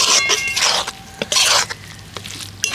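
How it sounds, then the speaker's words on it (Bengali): A spoon stirs chopped almonds, cashews and raisins into motichoor laddu mix in a pan over low heat, giving close, uneven bursts of scraping, rustling and small clinks separated by short pauses. "দেওয়ার পর একটু ভালো করে এইভাবে নাড়তে থাকবো।"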